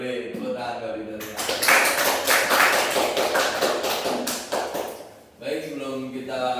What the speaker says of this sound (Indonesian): Boleh tepuk tangan kali tadi.